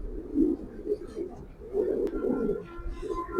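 A female racing pigeon from 2019, raced as far as Tetulia, gives low, muffled coos in short bursts, close and fairly quiet.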